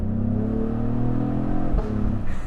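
A 2025 Cadillac CT5-V in second gear rumbles with a deep engine note whose pitch climbs as the revs rise, heard from inside the car, with a sharp pop near the end.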